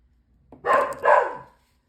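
A dog gives two quick, loud barks close by, with a short gap between them and quiet before and after, in a home where someone is painting.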